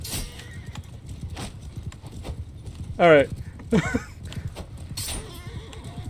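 Horses in Mount and Blade II: Bannerlord battle, with a sharp whinny midway and another neigh soon after over constant hoof clatter and combat noise, while a man exclaims briefly.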